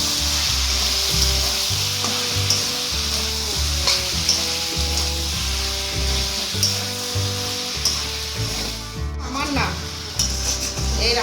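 Red chilli powder sizzles steadily in a hot pan while being gently stirred, a continuous frying hiss with soft scraping and faint background music.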